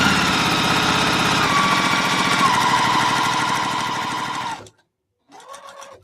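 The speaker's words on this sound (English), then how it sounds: "I've got to figure out camera thing where y'all can actually watch me sew." A sewing machine stitches a pillowcase with a fast, loud, steady mechanical whirr that runs for several seconds, stops abruptly, then briefly starts again.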